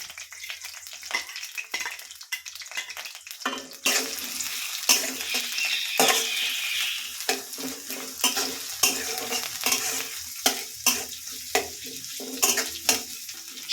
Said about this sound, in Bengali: দিয়ে দিলাম সেই কেটে রাখা পেঁয়াজ আর মরিচগুলো